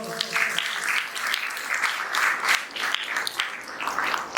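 An audience at a school parents' orientation claps in a steady, moderately loud round of applause, with the clapping swelling and dipping slightly and continuing throughout.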